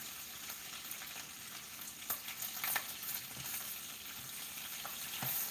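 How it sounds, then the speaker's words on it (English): Thin, skinny bacon fries in a pan, giving a steady close hiss and crackle throughout with scattered small pops and a brief stirring scrape, and no one talking. "I'm also failing at not overcooking this skinny little bacon"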